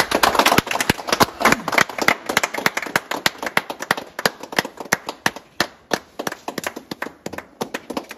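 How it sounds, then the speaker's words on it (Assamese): A crowd of people clapping their hands at an inauguration ceremony, a loud, dense burst of applause that thins into scattered, uneven claps over several seconds, close by. "আচ্ছা সকলোৱে হাত চাপৰিয়ে"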